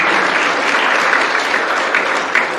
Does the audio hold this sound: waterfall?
no